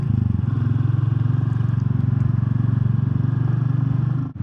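A Royal Enfield Classic 350 motorcycle engine thumps at a steady, rapid pulse while riding, loud and close, with no exhaust popping.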